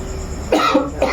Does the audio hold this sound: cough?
yes